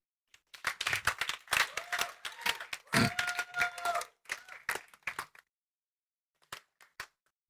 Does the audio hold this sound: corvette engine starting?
no